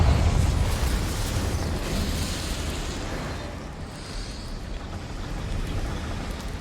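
Confringo blasting spell explosion in the game Hogwarts Legacy, a loud rumbling blast with a heavy low-end roar that slowly decays into a sustained crackling wash.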